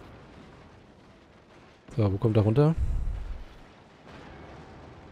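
A single cannon shot fires in the artillery video game Forts, a loud booming blast that rumbles briefly before fading, with someone speaking German over the game sounds.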